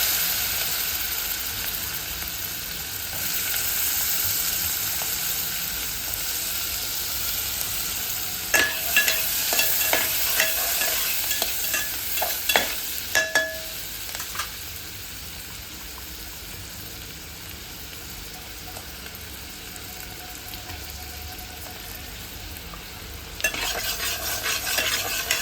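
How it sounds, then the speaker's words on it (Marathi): Onion frying in butter with curry leaves for pav bhaji, a steady low sizzle with bursts of scraping and clattering stirring in the middle and near the end, close and moderately loud. "आता टाकूया कांदा."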